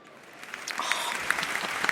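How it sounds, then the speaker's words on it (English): Applause at a graduation in a little league stadium swells in after a speech, building from a quiet start into steady, fairly distant clapping with a few sharper claps standing out. "Raucous applause."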